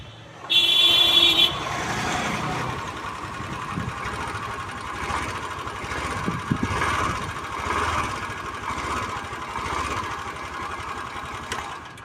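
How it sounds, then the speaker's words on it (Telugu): A 2024 Honda Dio BS6 scooter in brand-new condition starts with a brief electric starter whir, then settles into a steady, close, buzzing idle that holds evenly with slight rhythmic pulsing. "ఒకసారి మనం బైక్ అయితే స్టార్ట్ అయితే చేసి చూసుకుందాం."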